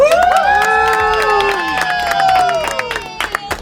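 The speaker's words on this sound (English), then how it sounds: "Let's give him a huge round of applause" A crowd on a river cheers and applauds for a friend's 21st birthday, loud close whoops and shouts over steady clapping, with a sung melodic voice running through much of the stretch.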